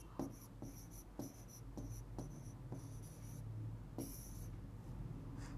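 A pen scratches tally marks onto paper in a series of short, rhythmic strokes, close and fairly quiet over a low steady hum.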